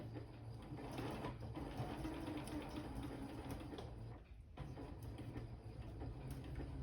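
A sewing machine labors to stitch through chipboard, giving a faint, continuous mechanical whirring and chattering with a brief stall partway through.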